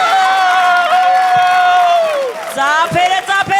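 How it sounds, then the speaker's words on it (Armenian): A comedy show audience cheers loudly, a close, sustained wall of whooping crowd voices that breaks into a few shorter shouts near the end. "Ծափերը, ծափերը, ծափերը"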